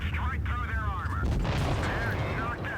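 Tank cannon fire in World of Tanks Blitz, two shots aimed at a Mark 6: loud booming blasts over a dense rumble of battle noise, with tonal whooshing sweeps throughout.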